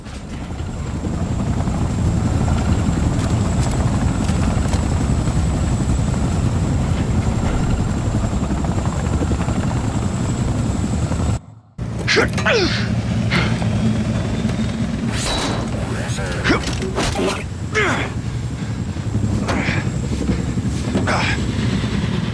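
A helicopter in the shooter Wolfenstein 2: The New Colossus thrums steadily with a loud rotor and engine drone, then after a brief cut continues under game sound effects and scattered impacts, with a voice speaking over it.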